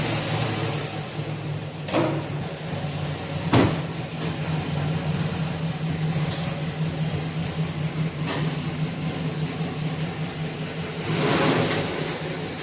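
A Chevrolet LS L96 V8 idles steadily in a truck after a cam upgrade, a low continuous engine drone with a couple of brief sharp knocks and a slight swell near the end, with no talking.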